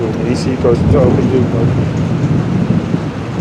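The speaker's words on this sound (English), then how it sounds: "Excuse the thunder, it's raining cats and dogs here." Low rumbling thunder with steady heavy rain noise underneath, while someone talks over it throughout.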